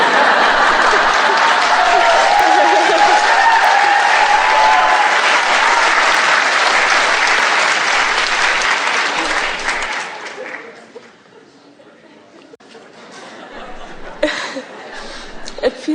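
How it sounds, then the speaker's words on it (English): A large audience applauds loudly and steadily for about ten seconds with some chuckles, then the clapping fades to scattered hands and murmuring. "It feels good to hear the audience applaud."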